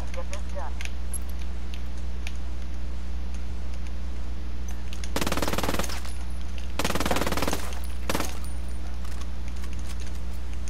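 Heavy gunfire in the Ghost Wars video game comes as two sharp, dense bursts of rapid shots midway through, over a steady electronic hum with faint clicks in between.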